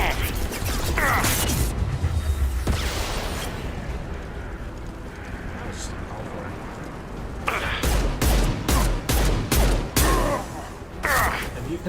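Gunfire erupts in a Mass Effect 2 battle, with sharp shots early on, then a rapid volley of loud cracks and impacts later, mixed with combat clatter and some talk.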